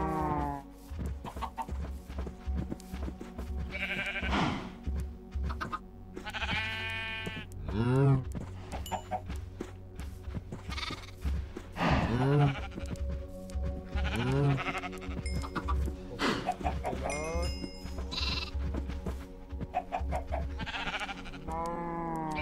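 Sheep bleating on a Minecraft farm, with game bleats and clucking-like animal calls repeating every few seconds over a steady background of game music and ambience, fairly close and clear.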